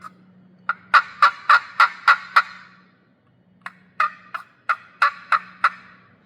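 Turkey clucks are imitated on a hand-held turkey call, two bursts of crisp, evenly spaced notes, six in the first and about seven in the second, separated by a brief pause over a faint low hum.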